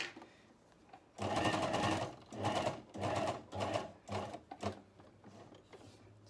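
A sewing machine oversewing the seam of a tee, several loud bursts of rapid stitching separated by short pauses.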